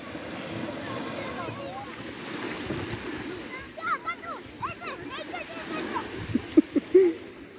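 Sea waves wash onto the shore at Berdyansk on an evening by the water, a steady broadband surf with wind noise, while voices and bursts of speech or laughter come in over it toward the end.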